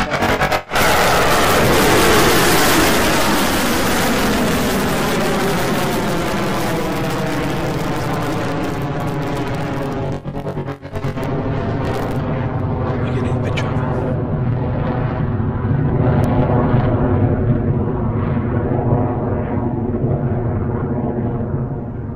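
A Rocket Lab Electron rocket lifts off on its eighth launch with a loud, sustained rumbling roar and crackle that holds steady throughout, briefly dipping near the middle.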